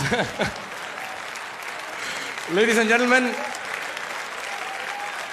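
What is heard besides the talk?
audience applause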